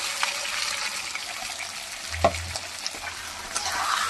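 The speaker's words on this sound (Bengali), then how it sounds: "মশলাগুলো কষিয়ে নেবো ভালো মতন করে" Ground spices being sautéed in a pan with already fried potatoes give a steady sizzle, with a couple of stirring scrapes and clinks, close and fairly quiet.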